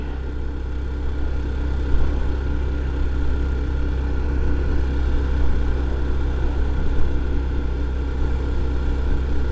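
Honda Trail 125 motorcycle, a 2023 US model, ridden at full throttle around 30 mph, its small single-cylinder engine giving a steady, loud drone under constant wind rush with no pauses.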